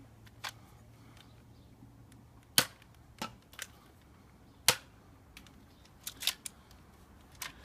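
Avengers foam dart blaster gauntlet toy firing darts that hit a board, a string of sharp snappy pops and clicks spread irregularly across the stretch, some louder than others, with no talking.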